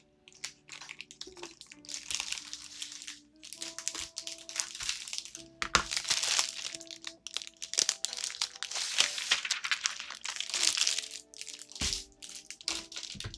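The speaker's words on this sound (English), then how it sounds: "let me get another piece of trace paper." A sheet of trace paper is handled at a drafting table, giving repeated close crinkling and crackling rustles in bursts over about thirteen seconds, with brief pauses between handlings and no talk.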